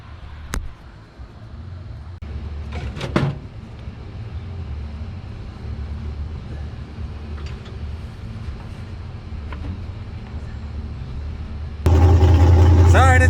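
A race car engine, just repaired and set on the ground, idles with a steady low rumble throughout, then grows noticeably louder and rougher near the end.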